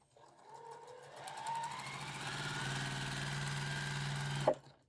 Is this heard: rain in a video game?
no